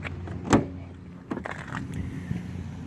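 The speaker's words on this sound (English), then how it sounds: "I'm going to pull the door open." Sliding side door of a 2018 Dodge Grand Caravan wheelchair conversion van pulled open, a sharp latch clunk followed by a rolling slide and a second thud, close and fairly quiet.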